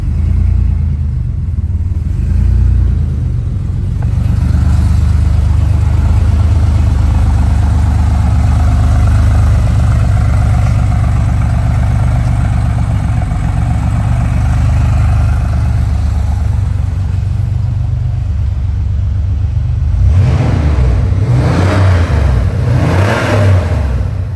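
A Porsche 964 Safari on a cold start holds a high idle: a loud, steady engine drone runs throughout, with a brief shift in tone near the end.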